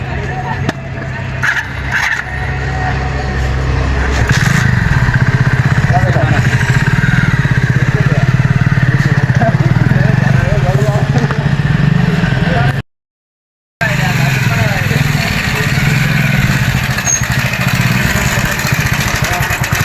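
A motorcycle engine running loud and close, its rumble building to a sustained throttled drone, with voices shouting over it and a brief cut of silence near the end.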